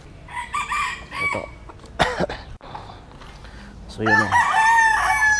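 Gamefowl rooster crowing close by on an open-air farm, one loud, strained crow after a stretch of clucks and rustling, while someone speaks briefly over it.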